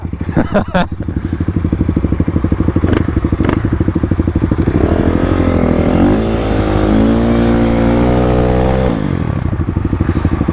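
Kawasaki KLX300 and KLX351 dual-sport motorcycles accelerating hard on a road, a loud close engine drone climbing steadily in pitch through the gears, with brief clatter at the start and a sharp drop near the end.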